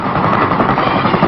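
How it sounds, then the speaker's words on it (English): CH-47 Chinook heavy-duty Army helicopter, a dense, loud, continuous rotor roar and rapid chopping pulse filling the clip with no pauses. "The Army's heavy-duty helicopter, the CH-47, known as the Chinook"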